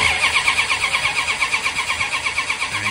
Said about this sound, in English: With no ignition, crank your engine, or power up your electric fuel pump, I guess, and fill the bowls.